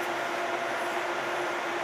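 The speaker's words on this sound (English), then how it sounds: "Yeah, my tram." Tram running at Canary Wharf, a faint, steady rolling rail hum with a thin high tone above it, heard from nearby at moderate distance.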